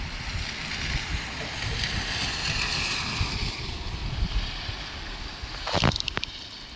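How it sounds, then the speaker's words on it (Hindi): Steady roaring wind and rain noise outdoors during a heavy storm, gusting against the microphone, with a few clattering knocks near the end. "बारिश हो रही है बाहर"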